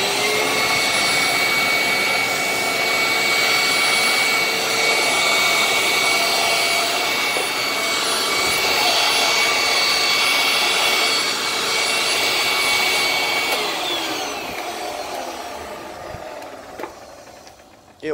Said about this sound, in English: That brush roll doesn't sound very good, but it works.